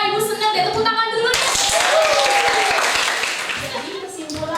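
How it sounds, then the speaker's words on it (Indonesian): Students in a classroom break into clapping right after a teacher's voice, a burst of many hands that swells, holds for about two seconds and then fades out as talking resumes. "tepuk tangan dulu"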